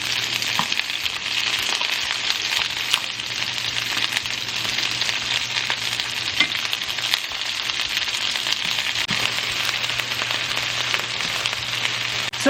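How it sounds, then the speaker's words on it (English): Beef pieces sear in a hot skillet with a loud, continuous sizzle and crackle of frying, steady throughout with no talking. "We're going to continue searing until they all have a nice brown color to them."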